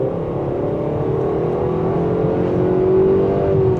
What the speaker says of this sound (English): now let's put it into sport mode where the RPM will jump up